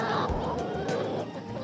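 Laying hens on a farm clucking and murmuring close by, a dense overlapping chorus of short clucks and calls in a brief stretch with no talking.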